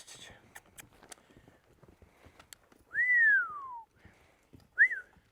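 A trainer's whistle cue to a young stud horse, one long descending whistle and then a short rising one, clear and close, between soft hoof taps and scattered movement noises.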